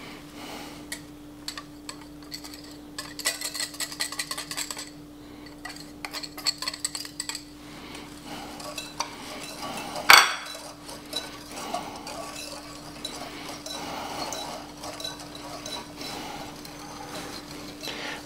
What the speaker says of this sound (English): In a mixing bowl, we're going to combine our sugar